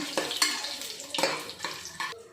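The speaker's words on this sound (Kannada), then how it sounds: "ಸ್ವಲ್ಪ ಕರಿಬೇವು ಇಷ್ಟು ನೀಟಾಗಿ ಫ್ರೈ ಮಾಡ್ಕೊಳ್ಳೋಣ" Mustard seeds, cumin, cardamom and curry leaves frying in oil for a pulao with field beans and dill and fenugreek greens, heard as loud crackling bursts and stirring scrapes in uneven clusters.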